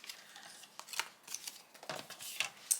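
An adhesive sheet being sliced with a blade during die cutting, giving quiet, close scratchy cuts in short irregular strokes.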